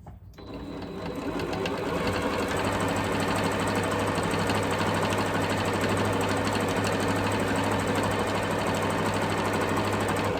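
A sewing machine runs steadily and loudly at high speed, quilting lines alongside a seam on a Christmas stocking, with a constant rapid stitching drone that starts up after a brief quiet moment.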